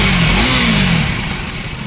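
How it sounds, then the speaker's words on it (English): A 2024 third-generation KTM Duke 390 motorcycle engine runs close by with a steady exhaust drone, rising briefly in a quick low rev before easing back to a settled low-RPM note, with no talk. "Let me start the bike and share the exhaust note with you."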